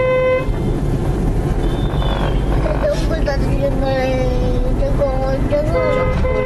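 On a family road trip on the hill road to Ajodhya Pahar in Purulia, a car horn sounds in a couple of sustained honks over constant road and engine noise, with people talking nearby.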